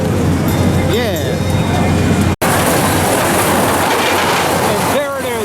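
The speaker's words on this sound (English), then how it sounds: "a little cute circus train" A small circus train ride rumbles and clatters at the Florida Strawberry Festival fair, loud and continuous amid crowd noise and voices, with a brief dropout partway through.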